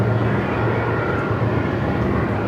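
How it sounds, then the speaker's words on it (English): A Qantas airliner takes off from runway 34 at Melbourne Airport in strong wind, heard as a steady, loud, broadband jet roar with no voices. "Qantas 474, runway 34, cleared for takeoff."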